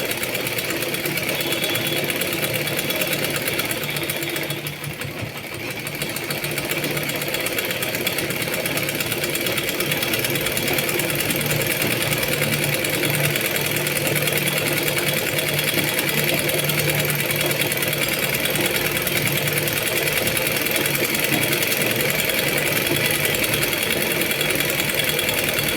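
A sewing machine stitches frills onto churidar pants with a steady, loud, close mechanical whirr and rapid needle rattle that runs almost without pause and has no voices.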